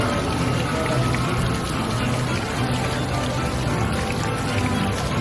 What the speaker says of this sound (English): because it's a little bit rainy